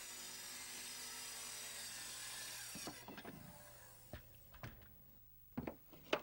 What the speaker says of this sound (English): And here's a riser being cut.